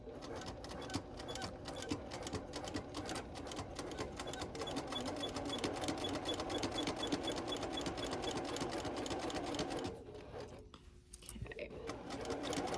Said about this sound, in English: So that means when I sew here, it's going to be caught inside, and that's what you want.